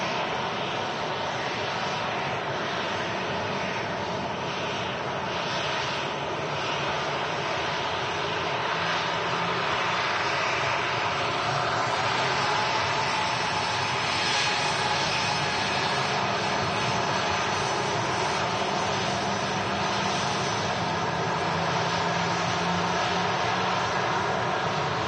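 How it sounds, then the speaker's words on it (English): A Ryanair Boeing 737-800 jet in from Alicante arrives on the runway at Manchester Airport, a steady, loud, broad engine roar holding throughout with no talk. "In from Alicante, just arrived on our runway here, the Ryanair 737-800."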